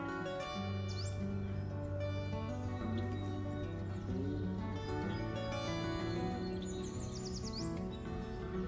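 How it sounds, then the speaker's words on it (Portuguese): Birds chirp and sing in a French village, with repeated short calls over a steady background hum of other sound, moderately distant. "Escutando os passarinhos cantar."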